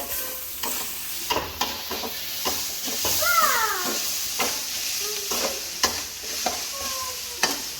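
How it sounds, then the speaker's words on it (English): Green beans and onions frying in a pan for a Thai dish, a steady close sizzle with repeated scraping strokes of a spatula as they are stirred. "Just stir it, keep stirring. The beans and the onions should be nicely softened now."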